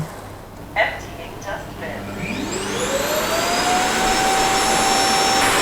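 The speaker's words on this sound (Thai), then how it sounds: "นี่ก็คือมันกำลังดูด ดูดฝุ่นขึ้นไปนะคะ" Roborock Q7+ robot vacuum dock auto-emptying its dust bin: after a few clicks, a loud suction motor spins up with a rising whine and settles into a steady, powerful roar nearby.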